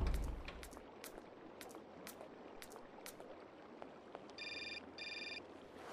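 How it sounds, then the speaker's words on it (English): A telephone rings in the video game Syberia, sharp bright trills repeating at a steady rhythm over faint ambient background, with a distinct electronic ring tone in two short bursts near the end. "Oh, wait, a phone call."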